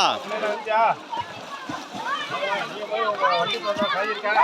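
Children bathing outdoors splash water in brief bursts while several young voices chatter and shout over the splashes throughout.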